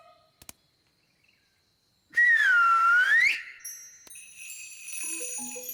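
A single loud, squawky jackdaw call from up in a tree rises and falls, followed by faint chiming tinkles and softer chirps in a quiet outdoor setting.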